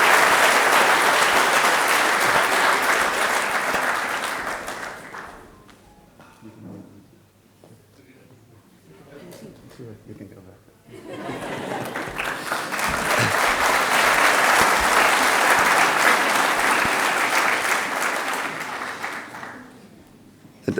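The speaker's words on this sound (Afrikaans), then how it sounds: "Kom ons geef hom 'n lekker hande klap." A hall audience at a school open day meeting applauds, a loud sustained wave of clapping that dies away into murmuring, then a second long round of applause swells and fades.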